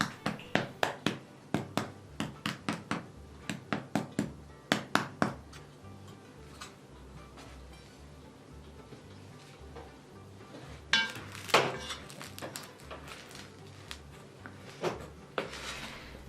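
Freshly baked homemade bread crust, made with instant yeast, tapped by hand in quick bursts of hollow knocks, close and crisp, with a clatter of pan or dish handling in the middle and more taps toward the end.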